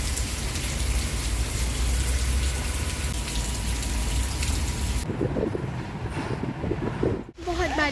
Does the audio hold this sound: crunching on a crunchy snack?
no